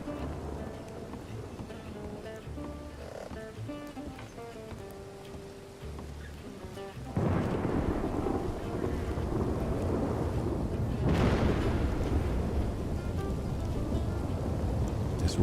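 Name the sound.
rain and thunder in a video game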